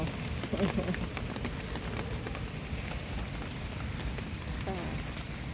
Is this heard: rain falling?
yes